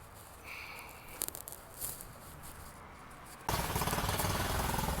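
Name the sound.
pressure washer spraying foam on a dirty RAV4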